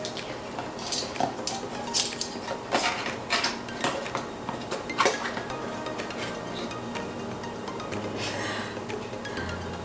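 A spoon stirring baking soda in a bowl for homemade slime, giving irregular clinks and scrapes against the bowl over a soft background hiss, close and moderately quiet.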